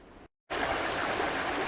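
A river flowing along the end of a forest walking track near Rydes Falls in Mt Oxford Forest Park, a steady broadband rush of moving water close by, briefly cut out for a moment and then continuing unbroken.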